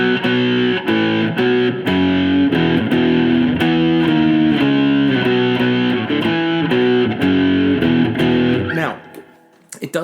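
Loud distorted electric guitar playing a chugging sequence of power chords in a steady rhythm, ringing out before fading at the end.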